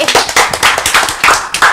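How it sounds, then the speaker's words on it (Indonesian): Close, loud clapping from a small studio audience at an open mic show, fast rhythmic claps in a tight burst lasting under two seconds. "Tepuk tangan dulu."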